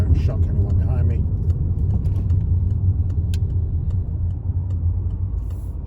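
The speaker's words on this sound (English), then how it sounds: "So I'm going to be stopping on the left. So I'll check my mirrors, signal down for left, gently brake" A car slowing under gentle braking to stop on the left in city traffic: steady low engine and road rumble throughout, with someone talking over it.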